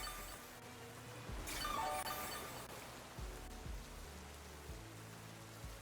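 Rain weather in a Pokémon battle game with Calyrex: a burst of hissing rainfall with glassy clinks swells in the middle and fades, leaving low in-game music tones underneath.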